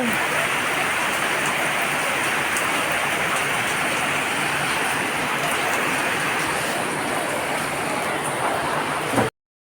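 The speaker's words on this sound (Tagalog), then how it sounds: "Umapaw sa kalsada yung mga tubig galing sa taas" A steady, dense rush of rainwater overflowing from higher ground onto a road roars continuously without letup, loud and close, then cuts off abruptly at the end.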